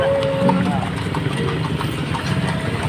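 An engine idles and rumbles steadily in street traffic in Ilocos Sur, with faint hoof clip-clop mixed in and people talking nearby.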